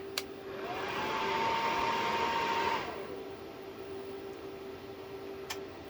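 A hybrid inverter hums steadily as it starts up and charges its battery, a rising whine settling into a level tone for a couple of seconds before easing off, with a constant background drone throughout.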